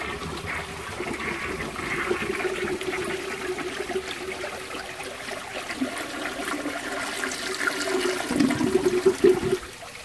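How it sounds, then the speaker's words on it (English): Flush of a 1955 CP.CO toilet, a steady rushing, gurgling water noise that keeps going for around ten seconds and swells near the end, close and loud with no talking. "So here's the flush of this toilet"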